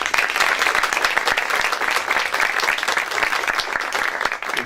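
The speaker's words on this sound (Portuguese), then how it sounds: "com uma calorosa salva de palmas" A room full of people gives warm, dense, continuous applause to welcome the author of the book 'O Outro Lado da Vida', holding steady and loud throughout.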